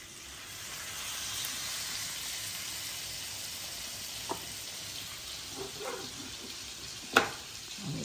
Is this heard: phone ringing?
no